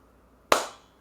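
One sharp hand clap rings out in a quiet room, a single loud crack with a short decaying tail.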